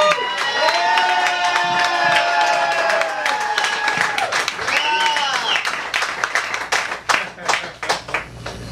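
A crowd at a sports bar and grill applauds and cheers for a woman, with dense clapping and shouts rising and continuing throughout, thinning into scattered claps near the end.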